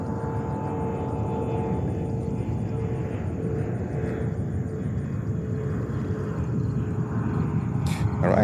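A Delta Air Lines Boeing 767-300 arriving at JFK from Copenhagen, heard as a steady, moderately loud jet roar with a broad low rumble that holds evenly throughout, set in a humid outdoor airport scene.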